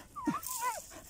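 A hunting dog on a tepezcuintle hunt gives a short, high whimper lasting about a second, fairly close and alone.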